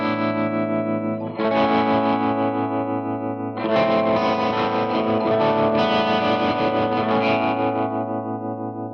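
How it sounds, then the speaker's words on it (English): An electric guitar run through a tremolo pedal with distortion and chorus-like effects, its volume pulsing in a steady moody oscillation across sustained chords, loud and continuous with a fresh strum partway through. "tremolo does this to your signal. It oscillates the volume, so you get this really, moody tremolo effect"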